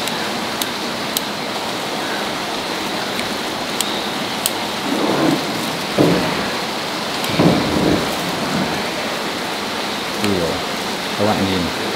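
Steady rain pours down around a street-food rice porridge stall in Long Biên, a loud, continuous hiss with occasional thunder-like rumbles beneath, while people talk.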